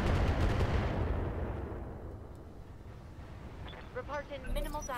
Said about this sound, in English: I want to see what turret that is that's firing